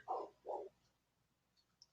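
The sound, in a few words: dog barking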